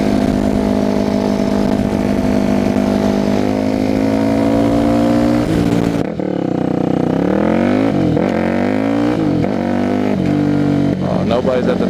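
A supermoto dirt bike engine drones loud and close while riding, holding a steady pitch before shifting and rising and falling through revs in the second half, with wind rush.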